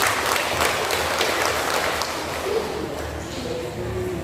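A dense, steady wash of audience applause fills a church gathering. The crowd's clapping continues throughout at an even, loud level.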